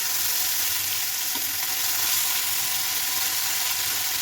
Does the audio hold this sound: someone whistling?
no